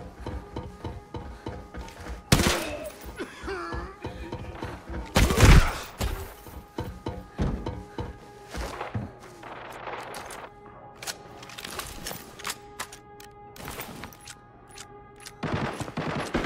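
Gunfire in the video game Arena Breakout: scattered single shots and short bursts crack out at varying distances, with a few louder close blasts standing out over a steady hum of game ambience.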